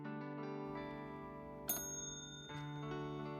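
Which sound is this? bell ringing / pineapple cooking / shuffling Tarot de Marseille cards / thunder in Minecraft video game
bell ringing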